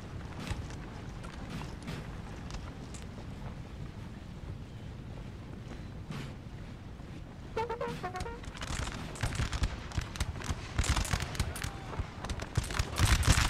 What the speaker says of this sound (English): There you go, Britain's firing.